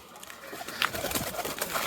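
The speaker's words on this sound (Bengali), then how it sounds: "এত পরিমাণ কবুতর হয়েছে আমার" Pigeons from a small home loft coo softly nearby, with brief wing flutters and rustles as the flock lands, over light background noise.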